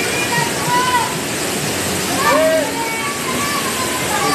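Water roars steadily at Calima Falls waterfall, with a broad continuous rush over which people talk and call out nearby.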